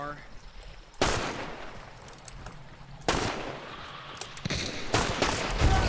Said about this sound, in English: Winged him with a shotgun.